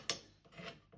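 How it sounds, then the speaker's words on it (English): A smaller scraper is drawn down the face of a wooden plane, giving one sharp rasping stroke followed by a softer rubbing pass, close and quiet with no voices. "come down this face here again with the smaller scraper"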